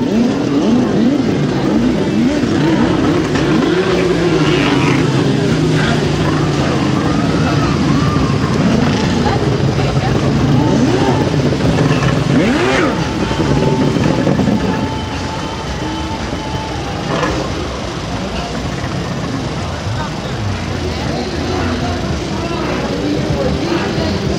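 Several three-cylinder racing boat engines drone and whine from a distance at an exhibition race, rising and falling in pitch as they pass, while a voice talks over them.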